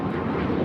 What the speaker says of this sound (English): 735 taking off to Houston Intercontinental on a MAX 9